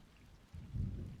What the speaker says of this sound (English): You can hear the thunder coming closer, getting louder